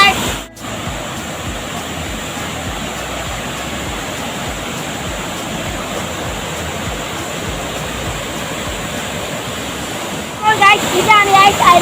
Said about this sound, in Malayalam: ഇതാണ് ഗൈസ് അരുവിക്കുഴി വാട്ടർഫോൾസ്